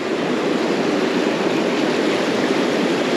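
A fast-flowing stream on the River Dee rushes in a steady, broadband wash, close and full, holding an even level from start to finish with no voices.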